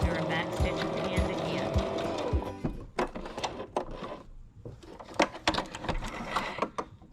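A sewing machine stitches a dog bandanna in a steady close mechanical whir that cuts off partway through, followed by scattered clicks, clunks and fabric handling.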